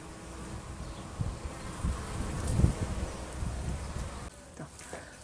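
Honeybees buzzing close at the hive entrance early in the beekeeping season, some returning loaded with orange crocus pollen; a steady insect drone with brief louder swells of wings passing near, no voices.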